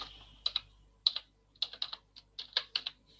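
Keys on a computer keyboard are tapped in short, uneven bursts of quick strokes with brief pauses between them, quiet and close, with no other sound.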